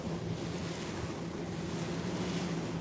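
Boat underway on the open Pacific off Maui, Hawaii, a steady broadband rush of wind and water with a low engine hum, loud and constant with no voices.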